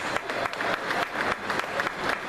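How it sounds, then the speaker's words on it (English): An audience at a magic show applauds, a dense and continuous burst of clapping from a crowd that stays loud and steady for a couple of seconds. "Everyone give a round of applause!"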